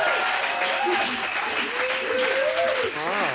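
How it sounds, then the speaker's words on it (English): A live podcast audience at a debate watch party claps and cheers steadily throughout, a dense continuous applause with a voice calling out over it. "We got a crowd here in the house. Make some noise."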